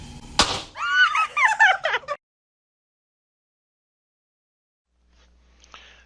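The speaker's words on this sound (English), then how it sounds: "Now the explosion we have here is not the hydrogen that's being produced" A small piece of sodium metal reacts explosively with water in a chemistry lab, giving one sharp, loud pop followed by a brief crackling, squealing fizz and then near silence.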